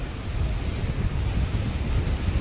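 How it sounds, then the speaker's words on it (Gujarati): Sea waves surge and churn near Mangrol harbour, a dense, rolling low roar with wind rumbling across the microphone, steady and close without any talking. "મોજાઓ જો આવી રહ્યા છે, ઉછરી રહ્યા છે"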